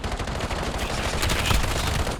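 Dense, continuous automatic gunfire from the Call of Duty video game, a rapid unbroken stream of loud close shots with no speech.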